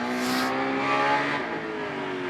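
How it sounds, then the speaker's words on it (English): The Speedwagon 2000 comes down the track at the 2023 Nassau County Championship, a brief, steady engine drone with its pitch easing slightly downward as it passes, moderately loud with no talk over it. "That is the sound of the Speedwagon 2000 you hear coming down the track."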